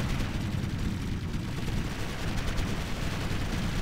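Heavy gunfire in the video game Ground Control 2, a dense and continuous barrage of shots and booms that roars steadily from start to end with no pauses.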